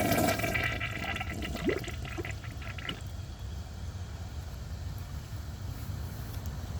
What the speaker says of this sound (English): So I'm going to give this another flush on a full tank